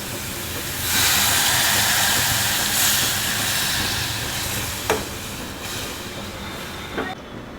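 Ground masala paste frying in a pan for a spicy Maharashtrian crab curry, a broad, steady sizzling hiss that swells after the first second, with a couple of short clinks toward the end.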